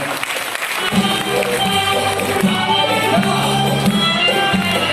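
An audience applauds a performance of the Yavluk folk dance, a dense, continuous round of clapping from a crowd, with music playing underneath throughout.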